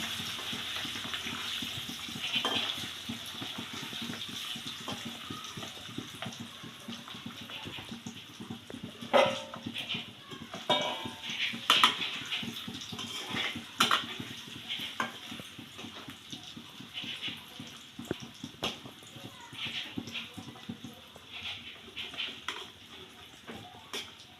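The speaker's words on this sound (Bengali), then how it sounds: "আস্তে আস্তে টুকরোগুলো তেলে দিয়ে দেবো এবং আলতো করে করে এগুলো ভেজে নেব।" Pieces of chhana frying gently in hot oil over a lowered gas flame, giving a soft, steady sizzle with scattered small pops and crackles throughout.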